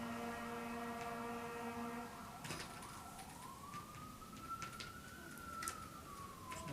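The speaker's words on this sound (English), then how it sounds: "A bunch of police cars and chasing that fire truck, is it?" Faint, distant police car sirens wailing, the tone holding and then slowly rising over a steady background hum.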